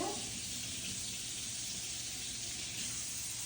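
Tap water runs steadily for refreshing a sourdough starter, a constant close hiss and splash of moderate volume with no talking.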